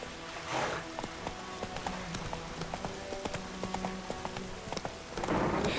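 Horse hooves clip-clopping along a road in The Witcher 3: Wild Hunt, steady repeated thuds at a walking pace, moderately close, with faint surrounding ambience and no talk.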